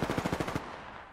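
Automatic gunfire in Apex Legends, a short rapid burst of about eight evenly spaced shots, loud and close, cutting off into a fading echo.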